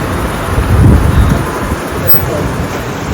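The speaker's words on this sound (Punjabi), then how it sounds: "ਬਾਹਰ ਨਿਕਲਦੇ ਹੀ ਵੇਖੋ ਕਿਵੇਂ ਬਾਰਿਸ਼ ਹੋਣ ਡਈ" Heavy rain pours outside a gurdwara at Paonta Sahib, a dense, loud roar of broadband wash with a deeper rumbling swell early on, heard close.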